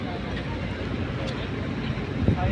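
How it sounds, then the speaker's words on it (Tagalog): A passenger ship's engine, the Pascat vessel at Matnog, Sorsogon, hums in a constant low rumble that fills the whole span, with faint voices underneath. "Umaandar yung makina."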